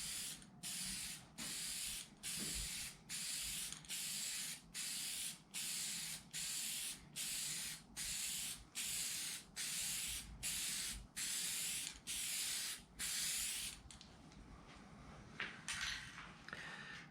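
A spray gun lays a finish coat onto a hardwood end table in a regular series of about a dozen even, loud bursts of hissing spray separated by short pauses, ending in quieter rustling.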